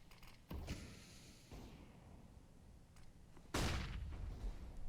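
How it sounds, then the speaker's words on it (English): A flashbang grenade thrown in Counter-Strike on the Dust2 map during a professional match, heard as a sharp loud burst followed by a broad noisy wash, among other game effects and ambient noise. "A great flashbang lobbed in from CT."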